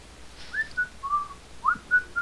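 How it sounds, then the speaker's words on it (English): Someone whistles a short tune outdoors, several clear bright notes, some gliding and some held, in a quick irregular run with no talking. "I love whistling."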